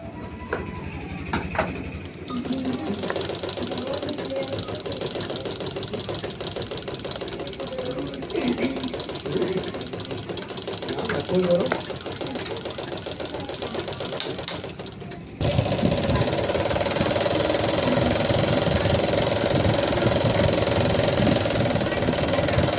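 A sewing machine runs steadily as it stitches a Bangladeshi women's nightie, a continuous mechanical whirr that shifts to a louder, brighter hum partway through, with no talking.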